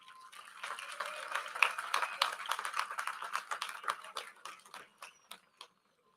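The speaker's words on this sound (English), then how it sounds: "Let's give a round of applause to Ms." Applause from a university commencement audience, a dense spread of clapping that swells near the start, then thins into scattered claps and dies away after about six seconds.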